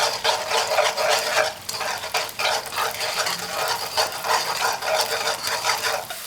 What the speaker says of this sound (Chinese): 锅中放油，油微热，放入蛋液。 用筷子快速划散